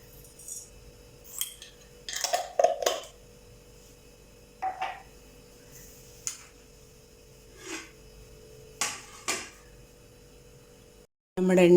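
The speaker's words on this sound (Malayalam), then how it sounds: "എണ്ണ ചൂടാകുമ്പോൾ നമുക്ക് കടുകിട്ട് കൊടുക്കാം." Mustard seeds splutter in hot oil in a cooking pan, giving scattered sharp pops and crackles at irregular intervals. They are fairly quiet and close, with short gaps of near silence between bursts.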